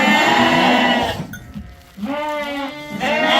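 Lambs and sheep on a farm bleating close by, several overlapping wavering calls with a short pause in the middle before the bleating resumes.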